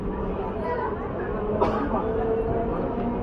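Commuter train pulling into Palpara station on a winter night, a continuous low rumble of wheels and carriage noise with a brief clank midway, under steady nearby talk.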